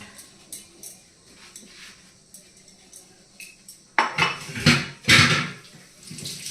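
Dishes, pots and pans clatter and clink at a sink, with running water; quiet scattered clinks build to louder, busy washing and scrubbing near the end.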